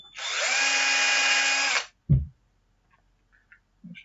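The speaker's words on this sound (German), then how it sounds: "Diese müssen wir einfach nur durchbohren" A power drill drilling through a plastic screw on a Bruder MAN TGS model truck, one steady high whine of about two seconds that cuts off sharply, followed by a thump and a few faint clicks.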